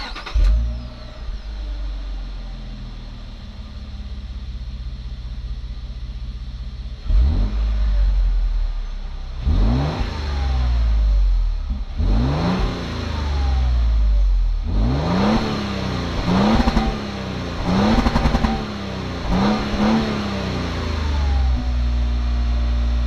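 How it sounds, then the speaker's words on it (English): A 2025 Lexus GX 550 accelerating hard on a private road during performance testing, engine note rising in repeated surges with gear changes, loud and close. "let's head out now to the private road and do some performance testing and see what it goes like."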